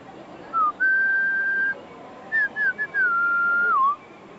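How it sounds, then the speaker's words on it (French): A person whistles a short tune alone and up close: a few sustained, gliding notes with brief pauses between phrases. "je ne sais pas si je siffle bien maintenant"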